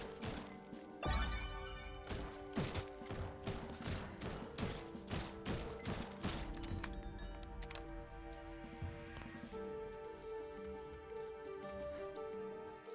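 Full-auto rifle fire in the video game Guns 'n Goblins, a fast rattling burst of shots that then thins into scattered cracks and clinks over a steady game background.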